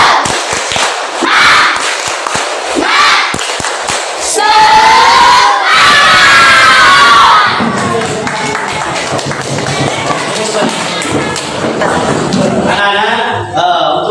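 A class of students does a rhythmic spirit clap chant in a classroom, loud bursts of group clapping and shouted chanting voices repeating in patterns with a strong crowd presence throughout.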